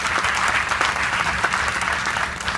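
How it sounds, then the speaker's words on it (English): Steady crowd applause at an outdoor groundbreaking ceremony for a FreshDirect facility in the Bronx, a full, even wash of many hands clapping with crisp individual claps standing out. "Let's give them all a strong round of applause."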